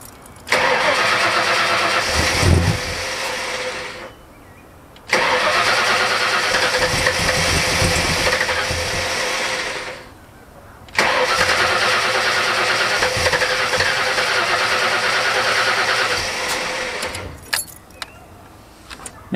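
A loud 1977 Ford Fairlane ZH engine fitted with Holley Sniper EFI, its throttle cable unhooked, cranks and fires three times, each time running rough and loud for several seconds before cutting out, with brief quiet gaps between.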